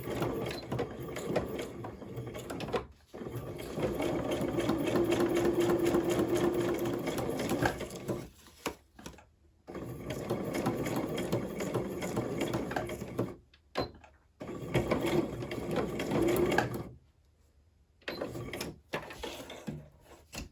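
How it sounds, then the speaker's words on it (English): A sewing machine stitches around fabric in close, steady runs, whirring for several seconds at a time with brief pauses and mechanical clicks between passes. "I'm going to run a stitch all the way around here a few times before I sew the pocket on"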